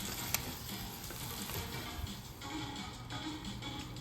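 An egg fries over hard in a pan with a steady, quiet sizzle and faint crackles. Nobody speaks.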